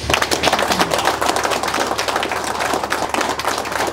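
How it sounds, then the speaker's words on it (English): Dense, steady applause from a crowd at a library ceremony, a continuous wash of many hands clapping for the full length with no break. "applause for Mr. Hale."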